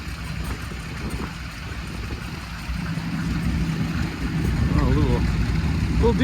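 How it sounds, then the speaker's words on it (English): Small diesel tractor engine idling nearby at an outdoor harvest reunion show, a low steady rumble that grows louder toward the end, with people talking over it. "Little diesel, pretty small tractor."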